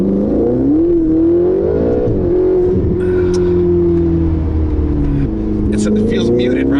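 A Ferrari 458 engine accelerating from inside the car, a loud, steady, muted drone with a slowly rising pitch and a faint whine, with people talking over it.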